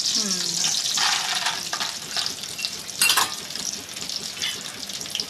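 Frying in a pan hisses and crackles close by, with stirring scrapes and a brief louder burst midway, under a faint background voice.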